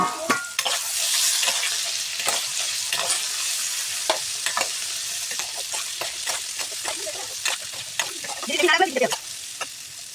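Ridge gourd and green chillies fry in a pan with salt and turmeric, a close, continuous crackling sizzle broken by repeated clicks and scrapes of stirring.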